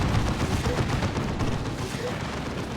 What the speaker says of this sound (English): We do have double missile attacks here